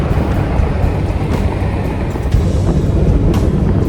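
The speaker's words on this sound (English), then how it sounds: "Yeah, it's way windier this way. I think there was a north wind." A strong north wind buffets the microphone with a loud, continuous low rumble and roar that barely lets up, with small gusts swelling now and then.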